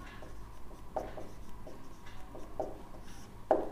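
Pen writing out the left-hand side of a Class 10 trigonometry equation, a few faint scratchy strokes and taps against a quiet background, close and soft with no talking.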